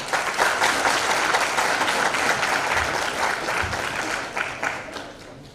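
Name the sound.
conference audience applause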